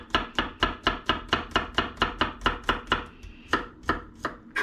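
A knife slices garlic cloves on a cutting board in quick, evenly spaced chops, about a dozen crisp strikes in a steady rhythm, slowing toward the end, close and clear with no talking.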